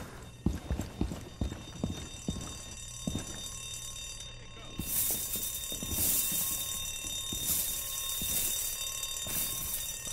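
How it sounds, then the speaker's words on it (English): An alarm rings out inside the Rainbow Six Siege video game, a steady high-pitched tone running under sharp in-game footsteps and clatter, then a harsher burst of noise joins in about halfway through. "Oh my god, that is the worst alarm ever."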